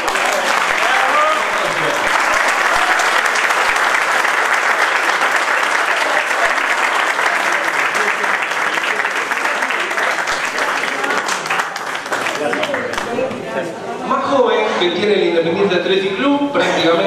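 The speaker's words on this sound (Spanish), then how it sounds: "Muy fuerte el aplauso para Manuel Galeano." Loud, sustained applause from a large crowd fills the room for many seconds, thinning slightly near the end as voices and cheers come through.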